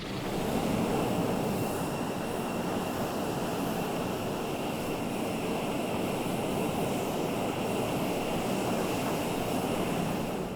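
Yak jet aircraft launching in the naval combat game Sea Power, a steady broadband roar of engines with a constant rushing wash, fairly quiet and unchanging throughout.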